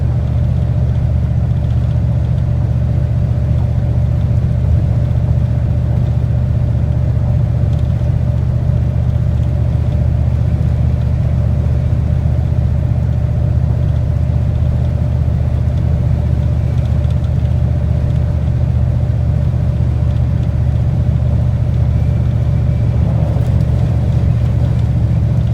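1995 Dodge Ram V8 with a Thrush welded exhaust cruising on a highway, a steady deep engine drone and exhaust rumble with road noise, constant and close throughout with no talk.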